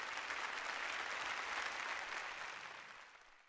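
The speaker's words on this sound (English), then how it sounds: "Another round of applause." A round of applause from an audience at an alumni awards night, steady, dense clapping throughout that holds at full strength and then gradually fades toward the end, with no talking.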